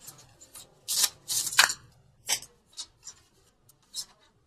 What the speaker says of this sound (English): Okay, keep shuffling.